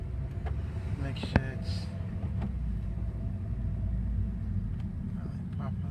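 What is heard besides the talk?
Honda Civic driving around neighborhood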